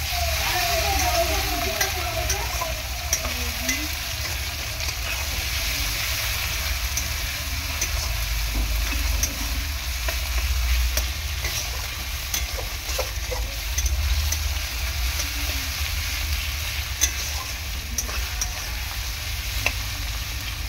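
Spice mix and tomatoes for a soybean curry being sautéed in a pan, a steady close sizzle with intermittent stirring scrapes throughout, faint low background hum underneath.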